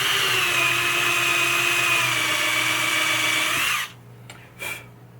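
A power drill whines loudly and steadily for several seconds while drilling into a 1978 Bally Playboy pinball machine playfield, then stops abruptly, followed by a couple of faint clicks.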